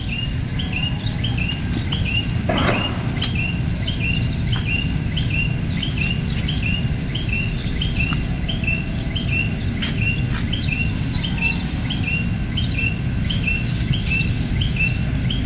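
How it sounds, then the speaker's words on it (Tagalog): Small birds chirp in a quick, repeating series of bright tweets that carries across the whole stretch, set against a steady, dense outdoor background rumble. "Walang ibang narinig kundi yung anong ibon lang."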